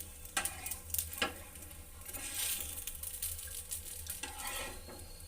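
Dosa roasting on a hot pan in a hotel-style home kitchen gives a steady close sizzle, with a few soft scraping and stirring clicks near the start and end and no voices.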